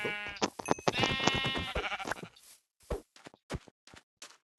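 A sheep bleats loudly with a wavering, quavering cry, followed by a run of sharp clicks and taps in near silence.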